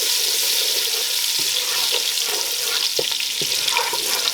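Minced garlic frying in a pan over medium heat for spaghetti carbonara, a loud, continuous sizzle with soft scraping strokes from stirring mixed in.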